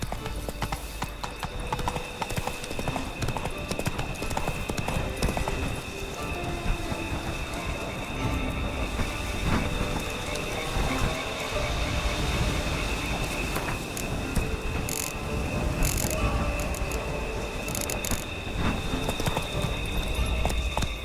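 A horse gallops in The Witcher 3: Blood and Wine, its hooves drumming in a fast, steady rhythm for the whole stretch over dense game background sound, with faint rain-like noise underneath.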